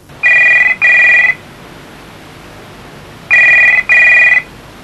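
A telephone rings in two double bursts, a bright electronic trill repeated with a pause between pairs, loud and close over faint background hiss.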